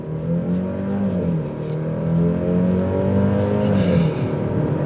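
A 2022 Genesis GV70 with a four-cylinder engine accelerates in sport mode, its engine note climbing through gear shifts with dips between them, steady and moderately loud from inside the cabin, no talking.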